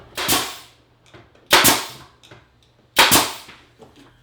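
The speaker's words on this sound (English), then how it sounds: "So I'm just going to use 1 3/4 nails in the nail gun." A nail gun drives 1 3/4 inch nails into cabinet subframe bracing: three sharp, loud bangs evenly spaced about one and a half seconds apart, each followed by a short ringing decay.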